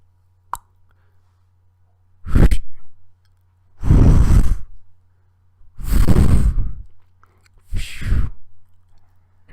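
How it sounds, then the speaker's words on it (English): Roll-on deodorant applied to skin in a quiet room: four separate wet, squishy rolling strokes with pauses between them, plus a faint click at the start. "And that was the sound of applying deodorant via roll-on deodorant"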